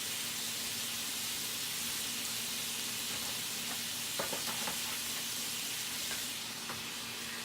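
Rice, bacon and canned mushrooms browning in a pan give off a steady, moderately loud sizzle and hiss, with a few scraping stirs partway through.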